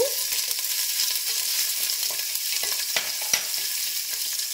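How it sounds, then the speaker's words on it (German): Sliced ginger goes into a pan of sizzling sliced garlic for an Indian turkey curry, a bright continuous hiss with a few faint scrapes of stirring, close and steady, with no talk. "Jetzt geben Sie geschnittene äh, Ingwer dazu"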